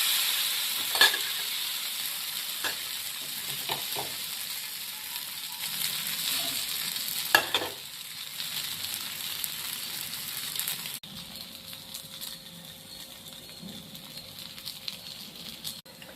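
Adai batter sizzles and fries steadily on a hot pan as a continuous crackling hiss, broken by a few sharper pops and scraping clicks, then settles into a quieter, duller sizzle near the end.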